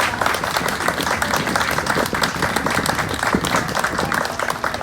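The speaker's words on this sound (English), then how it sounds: "Let's give them all a great round of applause." Sustained applause from an audience honoring the artists at a downtown Reading mural dedication, dense steady clapping filling the whole stretch with a faint crowd murmur.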